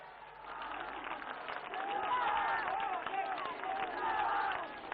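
Audience at a government event with the Prime Minister applauds, a dense wash of clapping from a large crowd that swells and stays steady, with chatter mixed in.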